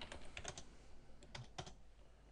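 Quick, faint taps on a computer keyboard as a command is typed, a brief cluster of clicky keystrokes heard close and alone.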